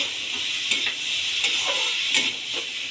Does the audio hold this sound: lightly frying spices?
yes